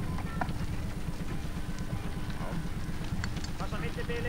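Horse hooves clop steadily on an arena surface during a riding lesson, a continuous fairly even rhythm beneath a constant hum of background noise.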